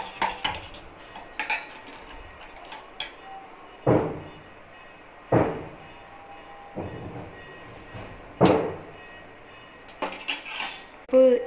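Construction work upstairs sends heavy hammering down into a home kitchen. Dull, muffled thuds land roughly every second or two, loud against a quiet room.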